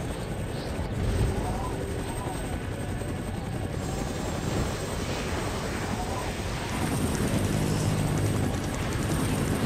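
Steady thumping helicopter rotor noise in the video game Fahrenheit (Indigo Prophecy Remastered) fills the scene, mixed with game-like rumble and effects, loud and continuous throughout.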